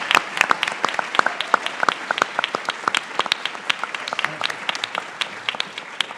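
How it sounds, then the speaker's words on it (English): A small audience gives a round of applause for courtroom-style advocates, sparse individual claps rattling out in an uneven, fairly close patter that gradually thins over several seconds. "Let's get another round of applause for our brave advocates."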